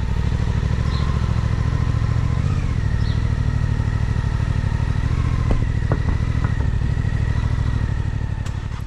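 A Suzuki GSX-8S parallel-twin motorcycle engine idles steadily and fairly muted at close range, with a constant low throb and faint mechanical clatter throughout.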